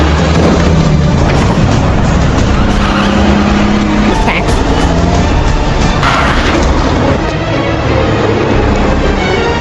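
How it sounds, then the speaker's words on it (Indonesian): A container truck rumbles across a bridge in a film action scene, a loud continuous roar of engine and road noise with bursts of impact and skidding layered over it. "dia melihat ada truk kontainer yang melintas"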